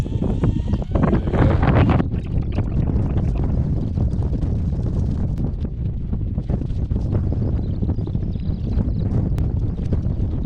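Wind gusts up to about 19 mph roar and buffet a microphone outdoors at a tarp campsite during a thunderstorm, with a stronger rumbling gust in the first two seconds before settling into continuous blustery noise.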